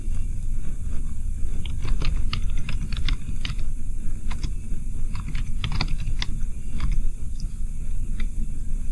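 Computer keyboard keys click in a quick, irregular run as a template name is typed, faint taps over a steady hiss of background noise.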